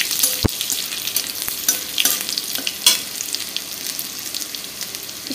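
Ginger and chili frying in a pan, a steady bright sizzle with scattered pops and crackles, close and continuous without talk.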